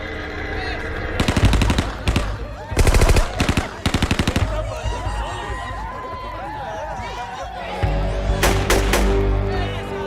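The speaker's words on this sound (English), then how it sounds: "Someone cuts loose from the door of the hut with an AK-47 on full automatic." An AK-47 rifle fired on full automatic from a hut doorway in the Colombian mountains: several loud, close bursts of rapid gunfire, a long stretch of background party noise and chatter between them, then another burst near the end.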